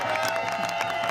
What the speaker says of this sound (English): Can I get some round of applause for that?